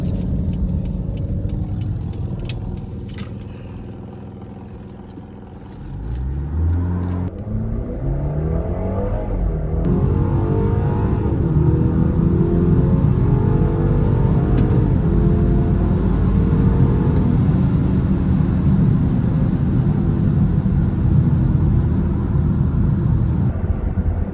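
A BMW B48 turbocharged engine with a JB4 tune and resonator delete idles briefly, then launches into hard acceleration, its loud, rising drone climbing steadily through the gears and holding strong to the end.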